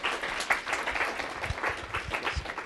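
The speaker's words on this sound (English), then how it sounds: "So how about a quick round of applause before your question?" Audience applause after a talk on suicide, moderate clapping from a seated crowd, steady and fairly even across the whole stretch with scattered individual claps standing out.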